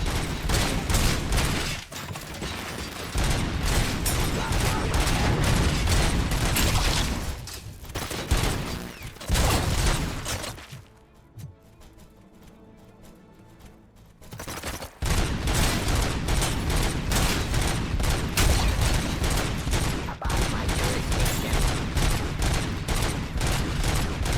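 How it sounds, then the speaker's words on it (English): Sustained heavy gunfire in RoboCop: Rogue City rattles in long, dense bursts, breaks into a short quieter lull around the middle, then resumes just as loud and relentless. "Damn, how many times you gotta shoot that thing to kill it?"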